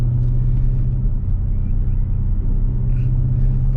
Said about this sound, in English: gunning the engine